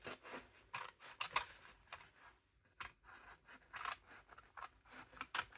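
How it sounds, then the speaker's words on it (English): Scissors snipping paper at a desk, a series of short crisp cuts in irregular bursts with brief pauses between them, close and fairly quiet, alone without speech. "It's hard to get the scissors in here."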